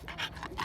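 A dog pants backstage at a dog show: quick, breathy bursts at close range, fairly loud, with no voices over them.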